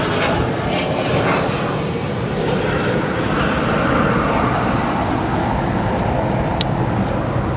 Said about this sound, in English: That you just saw go past your screen and landing now. Maybe landing. There we go. Late touchdown for that 737-700.